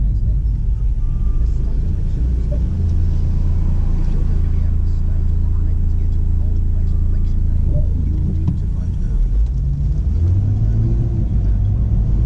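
A Ford Falcon FG XR6's engine, which has variable cam timing faults, hums and rumbles steadily throughout while it drives, with road noise filling the low end and a voice speaking intermittently over it.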